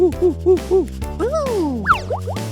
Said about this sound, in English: That's a monkey!